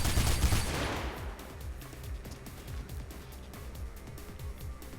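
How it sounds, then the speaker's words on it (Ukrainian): Machine gun fire in the video game Mirror's Edge, a long run of rapid, evenly spaced shots at moderate volume, following a louder burst at the start. "Хлопці, у мене кулемет."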